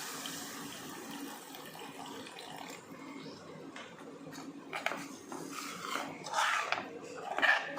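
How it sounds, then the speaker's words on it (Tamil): Tamarind water is poured into a pan of fried chilli powder for a Karaikudi-style stingray fish curry, a splashing liquid pour that swells toward the end over quiet kitchen background noise. "இப்போ புளி கரைச்சி வச்சுருந்த தண்ணியை ஊற்றிக்கலாம்"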